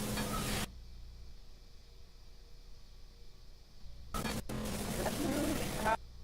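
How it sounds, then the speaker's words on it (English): A burger patty sizzles as an iron presses it down, bursts of loud hissing frying noise at the start and again near the end, separated by a quiet stretch. "sizzling sound whenever he puts it down on, whenever he puts that iron down on that patty"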